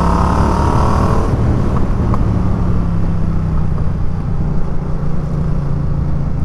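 A motorcycle rides through hairpin bends on tyres not yet warmed up; its engine rumbles loud and close without a break and shifts in pitch as it works through the curves.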